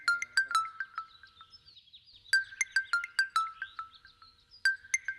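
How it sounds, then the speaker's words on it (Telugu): A phone rings indoors with a bright, chirping ringtone repeated in quick bursts, fairly quiet and with no one talking over it. "రింగ్ అవుతుంది"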